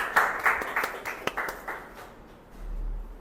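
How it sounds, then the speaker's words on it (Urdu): Applause from parents at a school parents' meeting at Rehan Munawwar Campus, a short burst of scattered claps from a modest group that thins out and fades to quiet after about two seconds. "تو میں چاہوں گا کہ آپ اپنے لیے ایک پرزور تالیاں بجا دیں"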